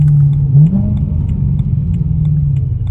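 A BMW E92 M3 with a naturally aspirated engine and a very loud exhaust idles and blips up close, a deep steady rumble with a short rev rise near the start.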